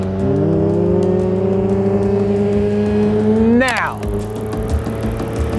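A Mazda Miata on Future tires pulls away on a timed lap, its engine note climbing steadily through the gear before a sharp gearshift sweep, with brief talk over the close engine.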